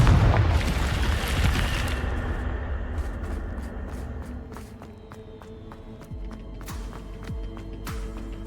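Confringo blasting spell explosion in a Harry Potter video game, a loud, deep boom at the start that rumbles and fades over several seconds, followed by faint scattered clicks and light taps.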